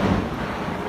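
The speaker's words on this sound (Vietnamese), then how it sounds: "Đó, sấm chép đùng đùng luôn á" A deep rumble of thunder during a heavy rainstorm over flooded streets, a dense low roar mixed with rain and wind noise, brief and loud.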